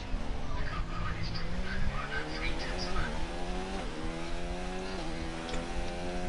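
An F1 car racing on a track at Brazil sends up a buzzing engine whine whose pitch climbs and drops through gear changes, moderately loud and steady under low background noise, with no clear talk heard.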